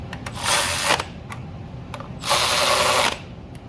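A hand ratchet tightens a nut on a Honda Accord engine during spark plug work, with two bursts of rapid clicking ratcheting, one short and one longer, between a few sharp taps, close and loud with no talk.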